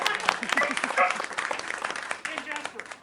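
An outdoor audience at a farming presentation applauds the presenters, a dense patter of clapping that carries on throughout while someone speaks over it.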